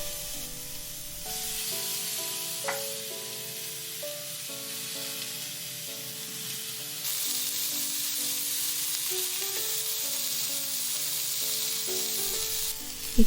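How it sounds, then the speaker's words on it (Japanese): Salmon, fried tofu and leek frying in hot salad oil in a frying pan give a continuous close hiss and sizzle, which grows louder partway through, with gentle music playing underneath. "フライパンにサラダ油を熱して鮭を並べます。"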